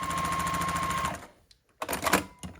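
A sewing machine runs steadily, stitching quilt block pieces for a Stars and X's quilt, then stops, followed by a few short clattering handling sounds nearby.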